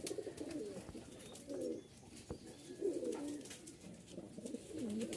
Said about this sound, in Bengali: ডাক দেখেন, অ্যান্ডালুসিয়ান ম্যাকপাই ড্যানিশ মেল এটা